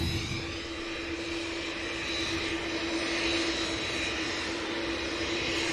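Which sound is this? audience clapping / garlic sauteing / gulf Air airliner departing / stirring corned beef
gulf Air airliner departing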